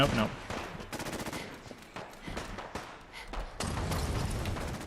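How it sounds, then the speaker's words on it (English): Rapid gunfire in a Fallout 4 firefight: dense bursts of automatic shots crackle in repeated volleys with heavy thuds, loud and continuous throughout. "Lots of bullets flying around"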